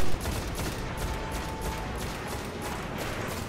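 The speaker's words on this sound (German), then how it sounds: "die Schiffe aufpassen, die schießen noch" Enemy ships firing in the video game Destiny produce rapid, continuous bursts of gunfire, a dense crackling fusillade at steady moderate loudness throughout.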